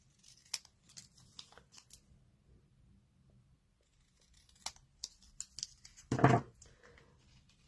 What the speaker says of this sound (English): Let me just cut a bit more off of there.